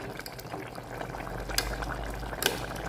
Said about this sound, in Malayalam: ഇനി വെണ്ടക്ക നമ്മൾ ഇറച്ചി വെള്ളത്തിൽ കിടന്നുകൊണ്ട് വെന്തോട്ടെ